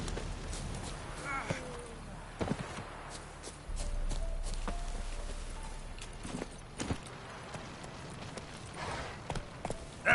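Roach the horse's hooves clopping along in The Witcher 3, a rhythmic run of hoofbeats with occasional heavier thumps and a low rumble, under someone talking over the game.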